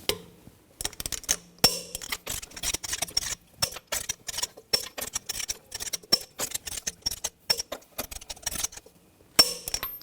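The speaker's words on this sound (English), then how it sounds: "Now we're going to torque the lug nuts to 140 foot-pounds in a cross pattern to tighten the wheel down evenly." Lug nuts being tightened on a Buick Encore wheel in a cross pattern, heard as a dense run of short metallic clicks and ratcheting bursts in quick irregular clusters across the whole stretch, close and fairly loud with no talking.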